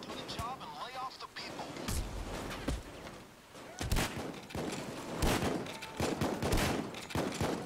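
Gunfire in the video game Payday 2 crackles in rapid bursts and single heavy shots over a busy game soundscape, with a player talking over the action.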